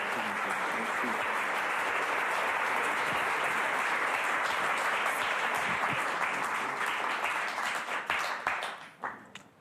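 Theatre audience at the Théâtre du Rond-Point applauding as a speaker walks on stage, dense sustained clapping that fills the room and thins out into a few scattered claps at the end.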